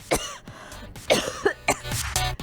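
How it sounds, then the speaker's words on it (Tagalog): Several harsh coughs in quick succession, close and fairly loud, with some throat clearing between them. "parang iba yung tunog ng ubo ko, nakakaloka"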